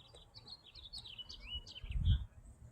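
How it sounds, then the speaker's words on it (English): Several small birds chirp and trill outdoors on a winter morning in Southern California, bright short calls scattered across the clip, fairly faint, with a low thump near the end. "So many birds."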